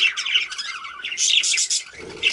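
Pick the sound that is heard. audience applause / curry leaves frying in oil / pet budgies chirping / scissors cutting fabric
pet budgies chirping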